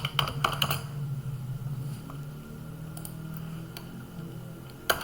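Python code being typed on a computer keyboard: a brisk burst of key clicks at the start, then sparse isolated taps over a low background hum, close and fairly quiet.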